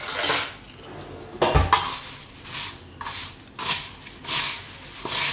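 Ingredients for poha bhel, flattened rice with chaat masala, are stirred in a metal bowl, giving several bursts of clinking and scraping against the sides with short pauses between them, close and fairly loud.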